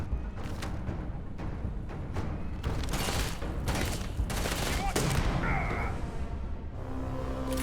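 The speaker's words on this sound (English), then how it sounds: "Shotgun time." A shotgun in the sci-fi video game Starfield fires in rapid, sharp blasts amid a chaotic firefight, several loud reports in close succession over background combat noise and brief electronic tones.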